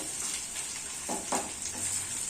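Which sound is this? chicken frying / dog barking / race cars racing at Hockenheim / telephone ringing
chicken frying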